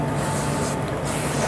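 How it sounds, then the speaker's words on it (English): Duck fat spray hissing steadily from a can onto a Cornish hen, one continuous close spray lasting the whole moment with no pauses. "So we're gonna spray this thing"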